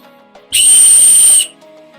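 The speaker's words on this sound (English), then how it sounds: "Another survival whistle with a keychain." A single sharp, shrill blast from a keychain survival whistle, loud and close, lasting about a second against near silence.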